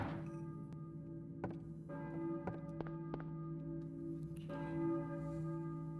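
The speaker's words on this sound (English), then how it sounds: "I hear a church bell, maybe. Who's ringing the bell?" A church bell tolls in the PS1 game Silent Hill, several resonant strikes ringing over a steady low hum and sustained tones, moderately loud with no one talking.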